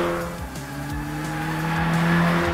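A Volkswagen Golf R with manual gearbox and all-wheel drive accelerates hard, its raspy engine droning steadily with rising tones and shifting pitch, loud and close with no talk.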